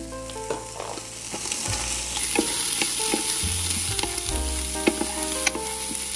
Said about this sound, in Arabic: راح انزل البصل واسوي لي حمسه لطيفه